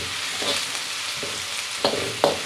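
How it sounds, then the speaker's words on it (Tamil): Shallots, garlic, dried fish and chili sauté on low heat in a pan for Indonesian-style fried rice, giving a steady soft sizzle with a few sharper stirring scrapes near the end. "ஒரு 2 நிமிஷம் சிம்லேயே நல்லா வதங்கட்டும்."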